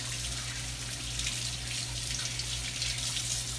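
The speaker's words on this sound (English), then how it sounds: "What I'm going to do is I'm just going to rinse it off." Salt mackerel fillets are rinsed under a running kitchen tap, a steady close splashing flow of water with a low hum beneath and no voices.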